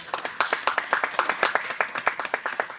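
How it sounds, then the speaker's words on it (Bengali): A small audience claps at an awards ceremony on stage in Siliguri, brisk uneven hand claps close by that repeat steadily for a few seconds with a faint voice in the background. "একটু উষ্ণ করতালি হোক"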